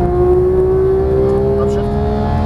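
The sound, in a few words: Porsche 911 GT3 accelerating at full power on track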